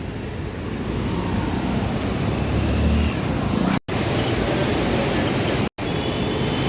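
The Ganges flowing fast past a ghat at Haridwar, a loud continuous rushing roar of water heard close and unbroken apart from two abrupt cuts.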